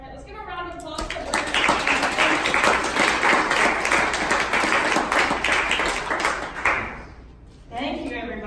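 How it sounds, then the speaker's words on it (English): Loud, full round of applause from an audience at a tech park event in Little Rock, a dense sustained roar of clapping lasting several seconds before fading out, with brief talk at the start and end. "let's give a round of applause."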